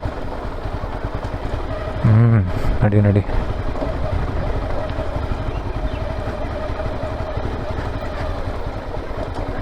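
An off-road motorcycle descends a steep trail in Rani Jhari under engine braking. Its low, steady engine drone is heard close up, with a short shout from a rider partway through.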